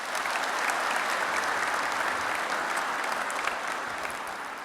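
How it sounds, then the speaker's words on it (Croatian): An audience at a ceremony applauds steadily, a dense, even wash of clapping from many hands that holds at a constant level throughout and tapers only slightly at the end. "Pozdravimo ih velikim pljeskom."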